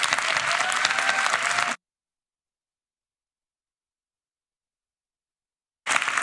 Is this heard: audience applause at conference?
yes